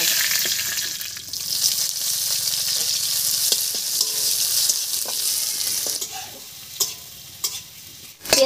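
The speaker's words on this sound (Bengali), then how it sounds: "ফোড়নটা একটু ভাজা হলে এর মধ্যে দেব পেঁয়াজ।" Cumin seeds and two bay leaves crackle in hot mustard oil as chopped onion is added and stirred, a steady sizzle broken by scraping and clinks of the spoon toward the end.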